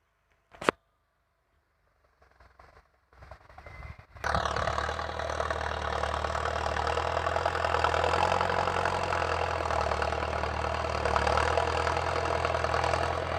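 An AT 6610 tractor ploughing clay soil with a seven-disc plough for a rubber plantation: a short knock and quiet start, then from about four seconds a loud, steady diesel engine drone holds to the end, with no speech.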